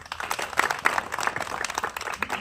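Audience applause at a political gathering, dense broadband clapping sustained throughout at moderate level, with no talk over it.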